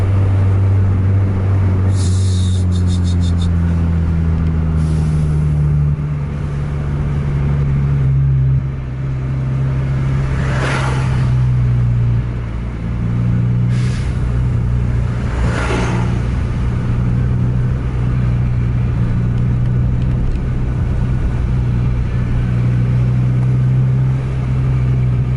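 Three intercity buses from different companies race each other at night on a busy road among trucks, a loud sustained diesel engine drone rising and falling in pitch, with hissing air and passing whooshes over the steady rumble.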